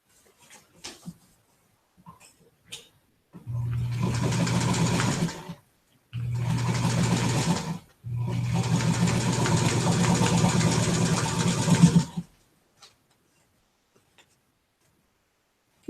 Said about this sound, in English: the Gammill that will be working, stitching away